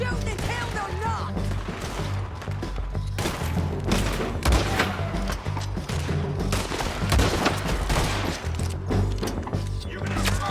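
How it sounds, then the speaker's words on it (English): A fusillade of gunfire crackles in the video game Red Dead Redemption 2 as rapid repeated shots and booms fill a chaotic firefight, with shouting voices over the top. "Keep shooting until they're not!"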